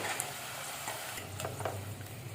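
Peanut pakodi deep frying in hot oil, a dense, even bubbling sizzle close up with a few faint stirring clinks, no talk.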